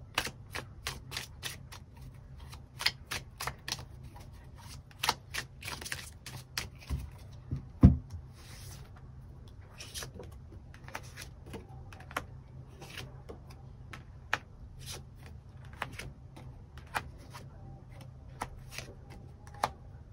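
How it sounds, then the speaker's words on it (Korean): Tarot cards being shuffled and drawn by hand, with a long run of crisp riffling flicks and occasional louder slaps, close and fairly quiet, with no talking. "나에게 필요한 조언의 카드 무엇이 있을지 추가 카드 뽑아보도록"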